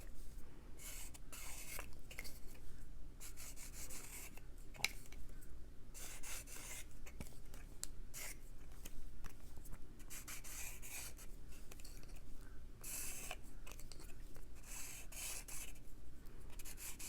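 A permanent marker rubbed back and forth over the ends of a thread spool, a steady close scratchy rasping that continues in repeated strokes with short pauses and no talking.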